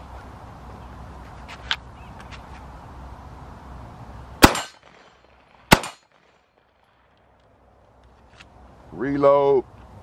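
Gunshots from a PSA JAKL and a PSA AK-47 fired at a water bottle on an outdoor range, two sharp loud reports a second apart with a faint crack earlier and a voice at the end.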